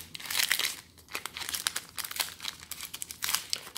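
Foil trading card booster packs from the Tempête Céleste set being ripped and torn open one after another, a dense run of crinkling, crackling wrapper noise close up with no talking.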